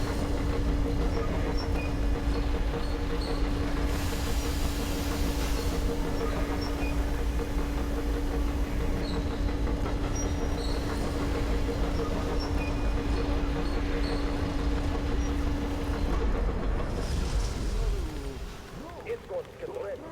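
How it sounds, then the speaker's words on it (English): Heavy rumbling machinery and rail clatter as a railway turntable switches on in the video game Metro Exodus, a steady loud mechanical drone with a sustained hum that cuts off near the end, with voices talking over it. "Attention! The turntable is switching on."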